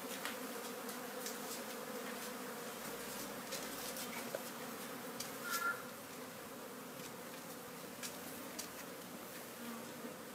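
Bees buzz inside a big bucket during a colony transfer from a propolis container to a frame hive, a steady close drone that holds the whole time with small swells and no talk.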